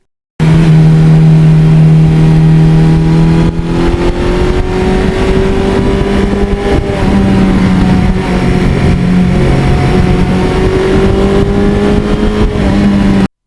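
An original, unmodified 1982 Suzuki GS1100E motorcycle engine with 80,000 miles runs loud and close, holding a steady throb with its pitch rising and falling as it revs, with no voices.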